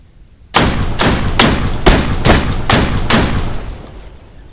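In the Deadside video game, the N4 gun fires seven heavy shots in an even, steady rhythm. They are loud and close, each a sharp crack with a short tail, and a faint ringing decay follows the last.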